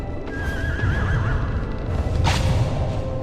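A horse in the video game Shadow of the Colossus lets out a loud, close whinny with a wavering pitch, then snorts, over a constant rumbling game background with hoof clops.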